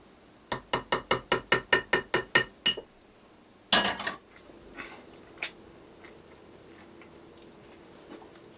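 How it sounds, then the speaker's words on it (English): A spoon clinks rapidly against a bowl while lard and butter are mixed for Guyanese hot cross buns: about ten sharp, evenly spaced knocks, then a longer scraping clatter and a few fainter taps in a quiet kitchen. "I'm mixing in the lard and the butter and everything"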